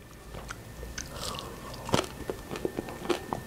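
Biting into crispy air-fried rice fritters, faint close crunches and chewing clicks scattered over a few seconds in a quiet room.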